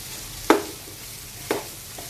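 Carrot, peas, potato and cauliflower sautéing in a pan for a vegetable biryani: a low steady sizzle with two distinct spatula knocks about a second apart and a fainter third, close by, no speech.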